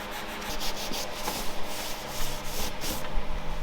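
Wood is sanded with continuous, uneven rubbing and scratching strokes, close and moderately loud, with no voices.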